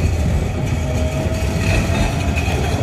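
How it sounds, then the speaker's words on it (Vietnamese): A tram passes in San Jose, producing a loud, steady rail rumble with faint metallic squeals over a few seconds. "Rồi cho các bạn coi cái xe tram ở đây nè nha, xe lửa đây nè."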